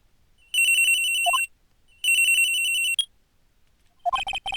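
Cell phone ringing in the Ace Attorney video game: two long electronic ring bursts with a rising chirp, then a third ring cut short, loud and alone with no talk.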